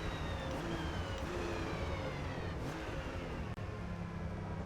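A 2017 Alfa Romeo Giulia races at the Nürburgring in Forza Motorsport, its engine droning steadily as it accelerates and shifts up through the gears, with a brief dip near the end and no talk.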